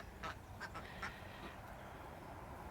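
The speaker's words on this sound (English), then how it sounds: "show you how the new ducks are getting on. They're quite lively" Ducks quack in a few short, raspy calls over steady outdoor background noise on an allotment, moderately close.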